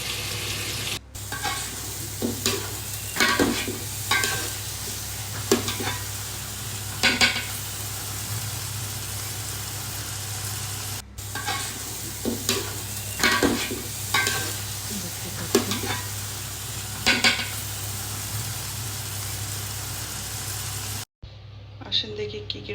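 Polao cooking in a sizzling pot, a continuous loud fry hiss broken by repeated rhythmic stirring scrapes, close by, with a voice speaking at times.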